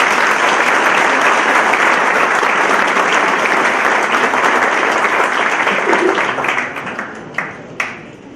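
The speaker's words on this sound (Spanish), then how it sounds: "Pido un gran aplauso." Loud, sustained applause from a university lecture audience, many hands clapping densely before it thins out near the end into a few last scattered claps.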